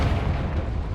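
A Confringo spell explosion in the video game Hogwarts Legacy, a single short deep blast with a rumbling low-end boom that fades slowly across about a second.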